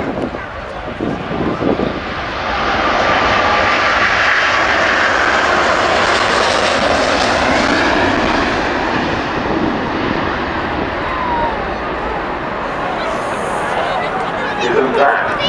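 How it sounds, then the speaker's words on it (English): An Airbus A380 airliner takes off during a display at the Farnborough Air Show, its jet engines producing a broad, sustained roar heard from the crowd line with wind noise on the microphone, while a commentator speaks over the PA. "to a huge airliner taking off"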